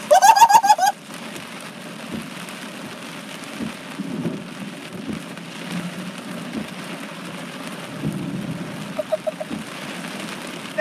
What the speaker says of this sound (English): That lightning's striking everywhere.